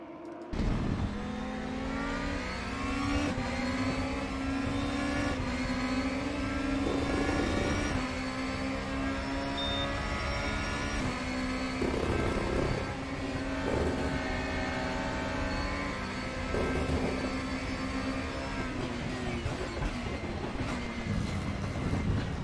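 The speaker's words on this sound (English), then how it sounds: "Engine sound amazing, bubbling away." A DTM racing car engine in a video game drones steadily at Silverstone with rising and falling pitch, loud and continuous, like a car accelerating and shifting through gears.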